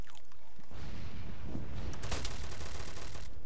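Gunfire fills a battle in the video game Arma 3, a dense, loud roar of shots that swells into a burst of sharp cracks near the middle.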